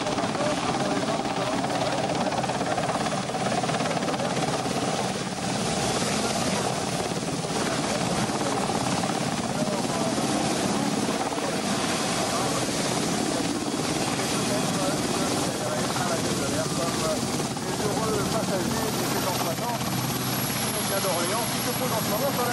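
A Royal Navy Westland helicopter performs at an air show on the Cambrai air base, its continuous loud rotor and engine roar filling the whole stretch while an announcer talks over it.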